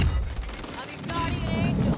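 Dense automatic gunfire in Modern Warfare II multiplayer, loud overlapping bursts filling a short firefight, with a voice calling out over the shots.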